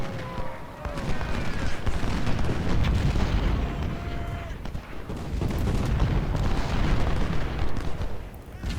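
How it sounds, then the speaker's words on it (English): Civil War cannon fire from Ultimate General: Civil War rumbles continuously through a dense battlefield din of booms and musketry, steady and moderately loud, with a faint tone sweeping briefly above. "Our artillery is now focusing their fire on Perry and on Cobb."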